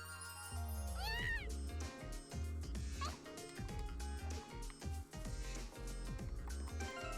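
A cat meows several times in a video game, rising, tinny calls over looping game music.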